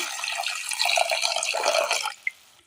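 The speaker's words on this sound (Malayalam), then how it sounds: "ഇതിലേക്ക് ഒരല്പം വെള്ളം ഒഴിച്ചു കൊടുക്കാം." Water pours in a steady rushing stream into a cooking pot holding washed jackfruit seeds for about two seconds, then stops, followed by a single small drip.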